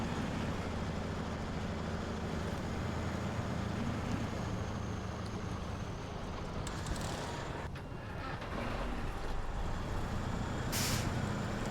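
A heavy truck engine in SnowRunner drones and rumbles steadily at close range, with a hiss like an air brake and brief mechanical bursts partway through, no voices over it.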